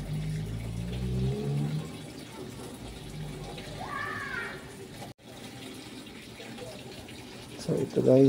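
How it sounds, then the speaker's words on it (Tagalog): Sharp automatic washing machine filling with water at wash level 1 while being tested for a water sensor fault, a steady running-water rush throughout with a brief cut and a louder clatter near the end. "nagkakagan siya ng tubig"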